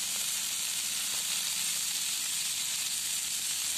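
Garlic fries in a pan for an Assamese dish, producing a soft, continuous sizzling hiss that stays steady and close throughout, with no voices.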